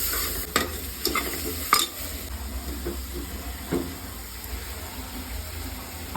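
Beef roast masala with tomato being sautéed in a pan, Kerala style, with a steady low sizzle and several sharp scrapes and stirs of a spoon against the pan, close and with no talk.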